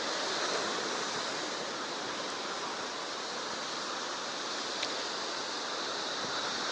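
Rough, stormy cold sea with waves and surf at Zelenogradsk, a dense, continuous roar of breaking water with steady loudness and no distinct individual wave crashes.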